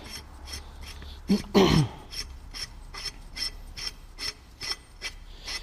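Metal threads rasping and clicking as the right-hand threaded end of a track bar on a 3rd gen Ram 2500 is screwed down by hand, close and faint, with a steady rhythm of short scraping turns.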